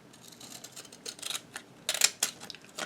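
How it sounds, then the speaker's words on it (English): Decorative pattern-edged scissors snip through card paper at a craft desk, giving a series of crisp, close cutting crunches of uneven rhythm, louder toward the end. "I have these decorative scissors with that pattern that I thought would be really"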